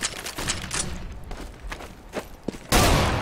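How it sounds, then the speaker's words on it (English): A flashbang grenade in the game CS:GO goes off with a loud, sudden bang and a sustained ringing hiss, following a run of scattered gunfire and thuds. "Throwing flashbang"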